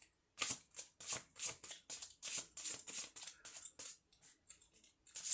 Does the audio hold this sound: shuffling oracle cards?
yes